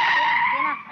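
A car brakes hard and skids to a stop in a 1986 Hindi film scene, one loud, sustained tire screech that fades out after under a second.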